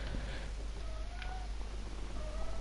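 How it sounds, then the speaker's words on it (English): A pet cat meows in the background of a room during a Minecraft building stream, faint, repeated short calls over low steady room hum, with no talk at that moment. "My cat won't shut up."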